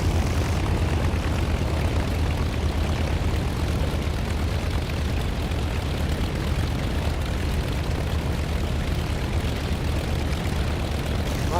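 Piston engine of a La-7 fighter aircraft at full takeoff power in the DCS flight simulator game, a loud, dense, unbroken propeller drone holding steady throughout.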